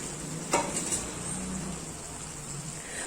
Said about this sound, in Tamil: பாருங்க, மசாலாஸ் வதக்கிட்டு அந்த எண்ணெய்லாம் பிரிஞ்சு வந்துருச்சு. இந்த சமயத்தில் நம்மளோட வெண்டைக்காவை ஆட் பண்ணிடலாம்.